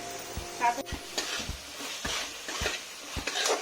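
Spice paste with Kashmiri chilli, coriander and turmeric sautéed in a pan, a steady soft sizzle broken by repeated scraping stirs at an even pace, close and fairly quiet with no talking.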